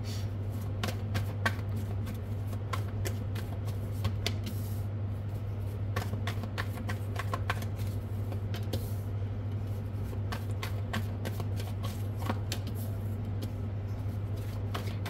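Tarot cards being shuffled during a reading: steady rapid riffling and tapping of the deck throughout, close and fairly soft over a constant low hum, with no talking.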